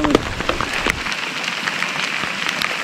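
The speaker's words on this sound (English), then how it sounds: "While it's hailing." Hail patters densely and steadily on a surface outdoors in the Rockies, a continuous close rattle with scattered sharper ticks.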